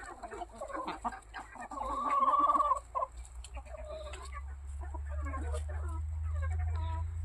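Green-legged Partridge chickens cluck and a rooster calls nearby in short bursts, with a steady low wind or engine rumble underneath.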